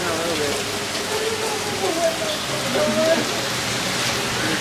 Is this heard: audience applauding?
no